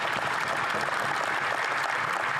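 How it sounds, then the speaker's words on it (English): MPs in the Canadian House of Commons applaud during a tribute, a dense, even wash of clapping that holds at moderate volume for a few seconds. "Clapping a little bit too loudly at that."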